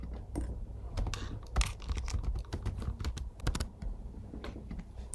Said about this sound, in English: Same thing here, you have to type in a password.